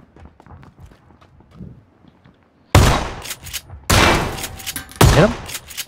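Gunfire in the battle-royale game PUBG: three loud, close bursts of shots, each followed by a tail of echoes, after a stretch of quiet footsteps and faint movement.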